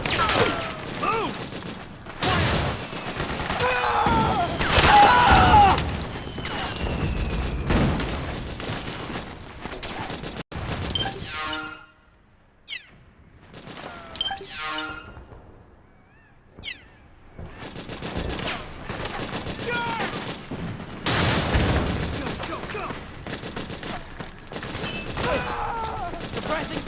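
Bursts of automatic gunfire and scattered shots rattle through a battle in Metal Gear Solid 4, loud and dense at first, thinning to sparse cracks mid-way, then swelling into heavy sustained volleys again, with shouted voices mixed in.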